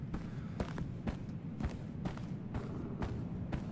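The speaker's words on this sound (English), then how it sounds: "Those are some loud footsteps for the balance act we're doing." Heavy footsteps in the video game Unforgiving, a run of loud, evenly spaced thuds about twice a second over a low rumbling background.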